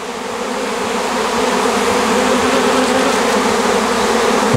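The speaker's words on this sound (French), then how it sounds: "il y a beaucoup d'abeilles qui volent encore autour" A swarm of honeybees flies around a branch where the queen has settled, a loud, dense, continuous buzzing close by that grows slightly fuller and stays steady throughout.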